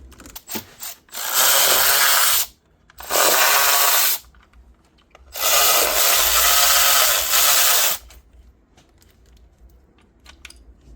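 A power tool, likely a ratcheting driver, backs out coil pack screws on an Infiniti FX35/G35 engine during valve cover gasket work, three loud whirring bursts of a few seconds each, close by, separated by quiet pauses.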